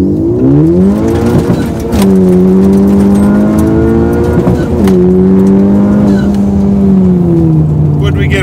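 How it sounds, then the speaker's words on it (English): A car launches from about 2000 to 2500 RPM with a new short shifter fitted, its engine loud and close, droning steadily as the revs climb, dropping at each shift and then pulling strongly again, with no talk. "I'm going to do it about a 2000 to 2500 RPM launch"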